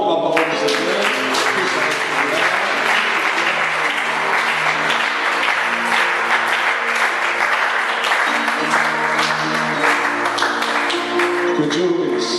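A church congregation applauds together in loud, dense, sustained clapping that fills the room evenly for the whole stretch, a few voices rising faintly within the noise.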